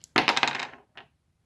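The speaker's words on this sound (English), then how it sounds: "I'm going to keep rolling the dice until we get to 50 pages or more." Dice clatter onto a hard surface in a quick burst of rattling, tumbling clicks that die away, then one small final tap as they settle, close and alone.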